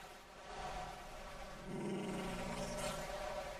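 A dog growls in a video game, a low rumbling snarl that swells and holds steady for a few seconds, fairly quiet and continuous with no talk over it.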